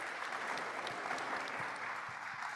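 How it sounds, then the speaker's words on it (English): An audience at a voter registration town hall applauds organizers and panelists, a steady, fairly faint round of clapping from a room of people that holds evenly throughout. "Let's give one more round of applause to our organizers and our panelists"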